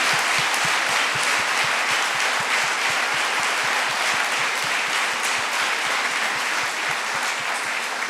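A church congregation gives loud, sustained applause during a Portuguese-language service, a dense, even roar of many hands clapping without pause.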